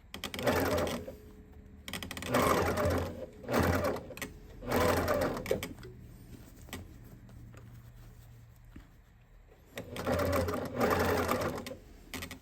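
A sewing machine stitches pillowcase fabric in short whirring bursts of a couple of stitches at a time, with quiet pauses between runs as the fabric is turned.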